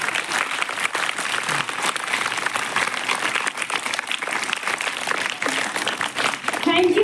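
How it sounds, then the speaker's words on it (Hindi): Audience applause at a school Teacher's Day celebration, a dense, steady wash of many hands clapping for the full stretch, loud and close, with a few voices mixed in near the end. "एक बार फिर से तालियां।"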